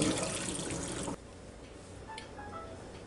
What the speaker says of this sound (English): Now I'm going to drain the water off of them pretty good,